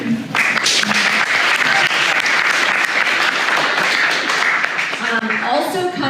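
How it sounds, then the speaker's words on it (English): Loud, close applause from a hackathon demo audience cheering a team, dense clapping filling the room throughout, with voices calling out beneath it. "And also, applause for the team."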